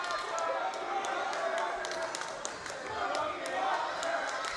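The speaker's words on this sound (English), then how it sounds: "As the Cookie Monster chants coming out for Lincoln Steen now" Crowd at an indie wrestling show in a community centre in New Waterford, chanting for a wrestler: a dense, steady wash of many voices with faint claps, heard from within the hall.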